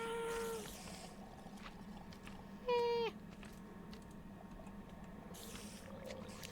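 A small cat-like creature in the Minecraft video game gives a few bright, rising mewing calls, with one louder call near the middle, over a steady low game background hum.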